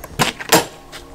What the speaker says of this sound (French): Alors, je rouvre la porte.